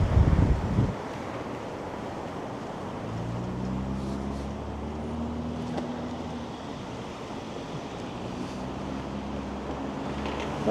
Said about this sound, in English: And this wind is bitter cold right now.